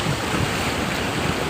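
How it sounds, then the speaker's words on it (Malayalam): Sea waves roll and break on a shore with a steady, loud, broadband wash and some wind buffeting on the microphone, continuous throughout with no voices. "നല്ല ഭംഗിയുള്ള കടൽ തിരമാല കണ്ട് നമുക്കിന്ന് വീഡിയോ എടുക്കാം"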